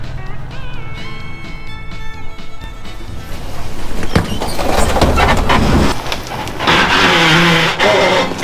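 A 1979 vehicle is towed out of a tree in low range, with a loud rumbling engine and drivetrain strain that builds into heavier mechanical noise and scraping, and a tonal whine appearing early on.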